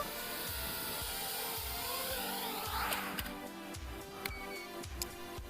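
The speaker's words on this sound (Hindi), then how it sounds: "एक रबिंग सी आवाज आ रही है इसमें से" A small FPV drone motor spins at high throttle with a rhythmic metallic rubbing and scraping, pulsing repeatedly under a steady high whine, close and moderately faint, with a few clicks and no speech.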